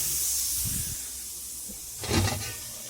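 Steady hiss of a splash of water sizzling in a hot pan while making pasta alla gricia, with a brief louder crackling burst near the end; no talking.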